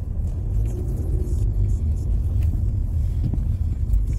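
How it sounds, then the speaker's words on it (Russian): An unusual car passes along the central street of an old Dutch town, its engine a low steady rumble close by for several seconds, with faint background talk. "Что вот эта машина такая необычная, видел?"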